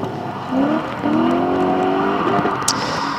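Drift car accelerating hard at a French drift championship round in Mérignac, a loud revving engine with rising harmonic sweeps and a brief tire chirp, steady and close with no talk.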